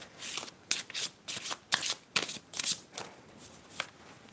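Love oracle cards being shuffled up close, a quick run of papery riffles and slaps in uneven bursts, fairly quiet, with no voices.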